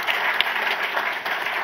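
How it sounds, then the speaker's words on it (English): A brief burst of audience applause for a debate team at a youth debate event, continuous and fairly loud throughout, with no talking. "A round of applause for my team again."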